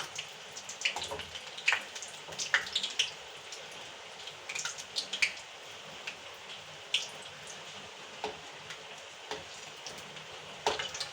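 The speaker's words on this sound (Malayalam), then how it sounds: "പുറത്ത് നല്ല മഴ" Steady rain falling outside, with scattered drips and patters spread irregularly throughout, fairly soft and continuous with no voices.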